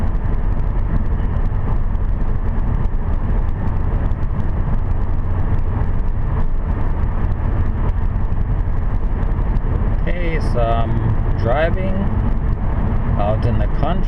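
Car driving at night on a country road, a steady low engine and road rumble running throughout, with someone talking briefly over it near the end.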